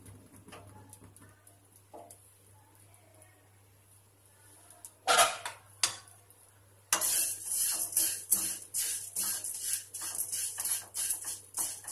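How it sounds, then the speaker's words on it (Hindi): Semiya (vermicelli) frying on a low flame for a rava dosa, with a steady broadband sizzle that starts abruptly partway through and continues alongside irregular stirring and scraping taps against the pan. "धीमी आंच पे ही इसको हम फ्राई करेंगे।"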